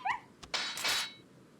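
A wolf in the Resident Evil 4 remaster gives a short high whimper at the start, followed by a few louder broadband bursts of game noise, all close and clear with no talking.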